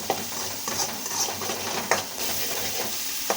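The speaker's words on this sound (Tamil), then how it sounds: "அந்த வெங்காயத்தை ஃபுல்லாக ஆட் பண்ணிவிட்டு லைட்டாக வதக்குவாங்க ஹை ஃப்ளேமில் வச்சு." Onions sauté on a high flame, giving a steady, close sizzle with scraping stir strokes throughout.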